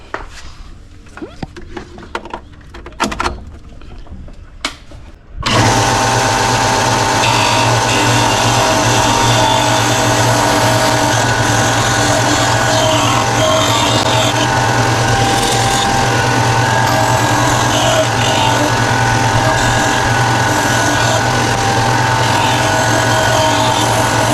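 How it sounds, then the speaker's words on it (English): An electric sander starts with a jolt after a few handling clicks and runs loud and continuous against wooden topwater lures, holding a steady buzzing hum for the rest of the stretch. "I'll grab me sander, plug this in"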